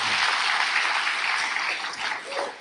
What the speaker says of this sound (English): Give the Lord a great big hand clap as you've been wanting to.